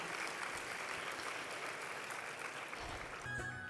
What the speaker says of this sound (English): So please give yourself a round of applause for everything you've done.